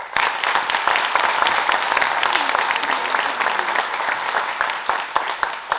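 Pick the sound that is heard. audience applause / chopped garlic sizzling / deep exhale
audience applause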